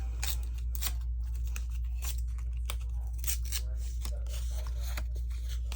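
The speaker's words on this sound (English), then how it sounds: "I think I want to just rip this edge a little bit." A paper page edge being ripped for a decorated envelope journal: a series of close, sharp tearing bursts, some quick and crisp, spaced irregularly over a low steady hum.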